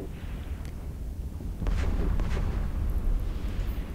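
A gun turret exploding in a space battle in EVE Online gives a dense, continuous rumbling roar that swells louder partway through and holds steady, heavy and low, with no voices.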